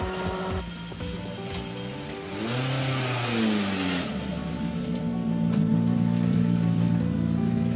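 A rally car launches onto the longest special stage of the 2023 Rallye des vins du Gard. Its engine revs hard and climbs in pitch through the gears, loud and close, with no voices.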